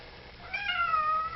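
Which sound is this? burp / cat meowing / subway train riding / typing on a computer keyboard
cat meowing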